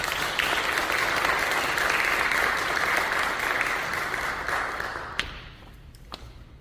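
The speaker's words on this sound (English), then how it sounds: "Everybody give her a round of applause." Audience at a chamber music recital applauds the stage crew assistant, a full dense wash of clapping that thins and fades, ending in a few scattered last claps.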